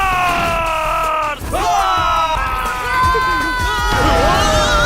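Several voices in an anime scene yell and whoop together in a loud, excited burst that carries on without pause.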